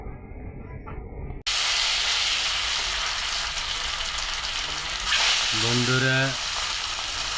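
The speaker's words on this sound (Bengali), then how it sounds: "এই যে দেখেন বোয়াল মাছটা আগে ভাইজা নিতেছি" A large 5 kg boal fish fries in a pan with a strong, steady hiss and sizzle that starts abruptly and runs on continuously, while a voice speaks briefly.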